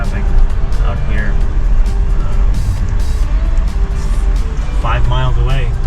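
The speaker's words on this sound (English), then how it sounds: "It is moving, slowly moving, but it is bumper to bumper traffic out here" A car creeps through slow bumper-to-bumper traffic on a road trip heading into New York City, giving a continuous low engine and road rumble with a voice briefly audible over it.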